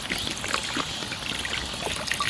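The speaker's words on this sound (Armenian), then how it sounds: "Գնաց, ջուրը լցնում ենք։" Water poured into a self-heating food pack containing magnesium and salt during a picnic in a park, a steady trickling, splashing pour lasting a couple of seconds, close and fairly quiet.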